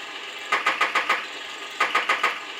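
A 1/6 scale Armortek Tiger 1 model tank plays its anti-aircraft gun sound effect: two quick bursts of about five rhythmic thumping shots each, separated by a pause, steady and moderately loud with no voices.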